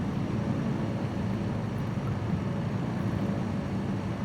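A Savage Cub light plane's engine drones in Microsoft Flight Simulator 2020 on approach to a small airstrip, a low, even, continuous hum with no talk.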